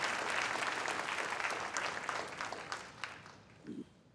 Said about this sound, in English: So again, another applause for Mayor Lee.